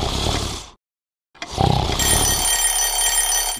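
An alarm clock used as a prize in a church Sunday school activity rings loudly and steadily after a short silence, a sustained shrill bell tone filling the rest of the clip on its own.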